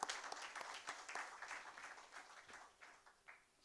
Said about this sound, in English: So give a round of applause for him.